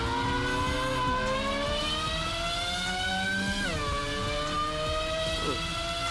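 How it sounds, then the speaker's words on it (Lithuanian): A Dodge Viper-like car in the racing game Street Legal Racing: Redline sends out a loud, sustained high-pitched engine whine that climbs steadily in revs, dips briefly near the middle, then holds high again, with no talk. "toks garsas kaip formulė kažkokia"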